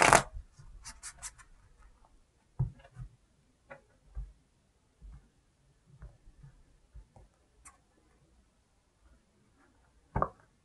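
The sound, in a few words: shuffling tarot cards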